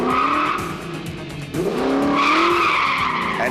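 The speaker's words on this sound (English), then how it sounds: "While the Witkowskis took their 1977 Holden Torana A9X for a spin" A 1977 Holden Torana A9X rally car on a Classic Adelaide hill stage skids with loud, sustained tire squeal over a roaring engine, the pitch sliding and rising midway as the car slews through a corner close by.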